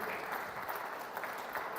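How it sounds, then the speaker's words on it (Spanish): Congregation applause offered to the King during a church sermon: a short, steady wash of clapping from a crowd, fairly soft and even throughout. "Dele un aplauso al Rey"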